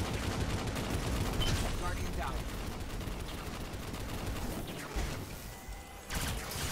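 Dense, continuous gunfire from the video game Destiny 2, loud and busy throughout with bursts of automatic shooting and impacts, with voices talking over parts of it.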